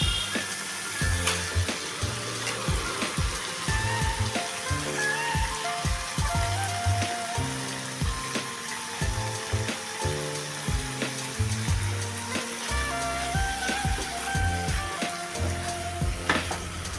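Shapla water lily stems frying over high flame in spiced oil that has released from the masala: a dense, steady, rain-like sizzle and crackle running continuously, close and unaccompanied by talk.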